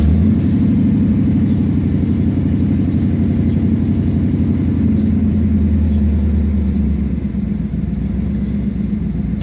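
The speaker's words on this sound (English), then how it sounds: "It's idling down now that it's found its parameters for the monitor." A car engine fitted with Sniper EFI fuel injection idles after start-up, a loud, steady, close rumble with an even pulsing rhythm that eases slightly over several seconds.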